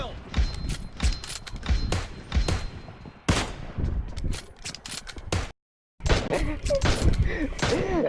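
Gunfire from the video game PUBG Mobile, including shotgun blasts, crackles in repeated sharp shots with a brief silent gap, while players talk excitedly over the action.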